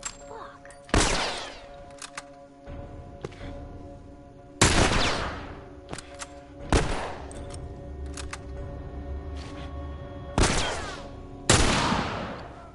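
Gunshots in The Last of Us video game, about six loud, sharp reports spaced a couple of seconds apart, with faint background hum between shots.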